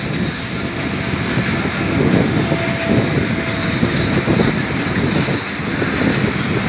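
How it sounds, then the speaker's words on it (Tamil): A train rumbles steadily at Avissawella railway station, Sri Lanka, with low rolling noise, faint wheel squeal and a high electrical whine throughout, fairly close. "இதுதான் அவிசாவல்ல புகையிரத நிலையம்"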